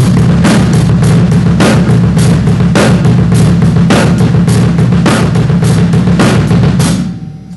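Drum pattern number 1 on a drum kit with double strokes, a steady loud groove of repeated hits with regular accents that cuts off near the end, no talking.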